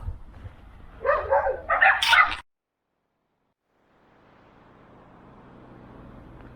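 Small dogs let out a short burst of yips and barks near a forest trail, followed by silence and then a faint low outdoor rumble.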